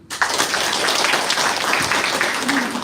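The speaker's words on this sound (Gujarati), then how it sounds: "તાળી પાડી." Audience applause in a yoga awareness session hall, a steady wash of many hands clapping that swells in quickly and holds at an even, full level throughout.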